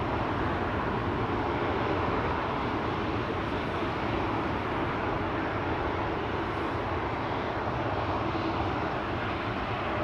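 An aircraft departing Amsterdam Schiphol's runway 18 left (Aalsmeerbaan), a continuous, loud broadband jet engine roar heard from near the northern threshold, steady throughout without voices.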